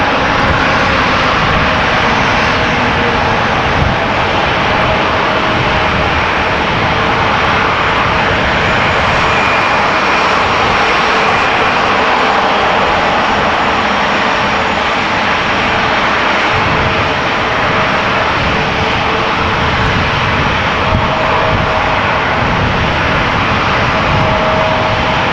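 An Air France Airbus A321 jet airliner at Amsterdam Schiphol Airport gives a loud, steady engine roar that holds evenly for the whole stretch, with no voices.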